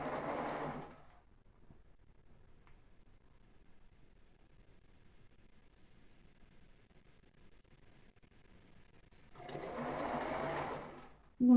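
A sewing machine stitching a ribbed knit tank top runs in two short, steady whirring bursts, one at the start and one near the end, with a quiet stretch between them.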